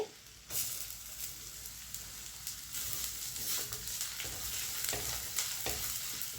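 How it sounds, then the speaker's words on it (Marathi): Onion sizzles in hot oil alongside garlic, with a soft, continuous frying hiss and occasional stirring clicks and scrapes, fairly quiet and without voices. "ह्याच्यामध्ये कांदा ॲड करूया"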